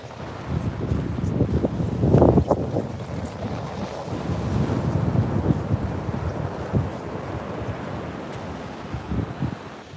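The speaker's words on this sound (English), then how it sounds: "some of these waves are getting a bit bigger up here." Sea waves wash in over a shallow north Norfolk beach, a continuous rumbling surge with swelling peaks, heavily buffeted by wind noise on the microphone, loud and close, with no talking.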